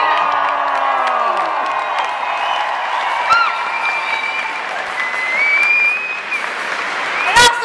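A concert crowd at a show at the Zenith in Munich applauds and cheers for the dancers, a dense, steady wash of clapping with whoops and whistles throughout.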